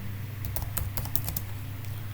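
Keys tapped on a computer keyboard while entering a git command at the command line, a brisk run of close, light clicks over a low room hum, no talking.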